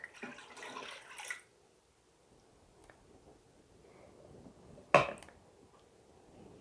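Two cups of water are poured into a Ninja Foodi pot: a short, soft splashing pour at the start, then quiet, and later a single sharp clunk.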